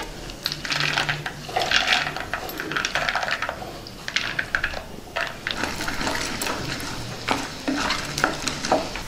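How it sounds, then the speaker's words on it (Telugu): Peanuts and tempering spices hit hot oil in a pan, giving a loud, close sizzle and spattering crackle with rattling, clinking stirs and scrapes running throughout, no talking. "ఇప్పుడు పోపు దినుసులు వేసుకుందాం. ఇప్పుడు కొద్దిగా పల్లీలు వేసుకుందాం."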